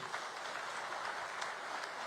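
Audience applause greeting Gujarat Chief Minister Bhupendra Patel at a state Teachers' Day best-teacher award ceremony, a steady dense wash of clapping filling the room throughout, fairly quiet overall.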